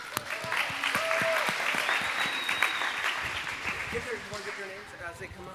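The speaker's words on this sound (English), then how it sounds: "Round of applause" An audience at a live church game show gives a loud, sustained round of applause and cheering for contestants called up to a mystery box, with scattered voices and whoops over the clapping.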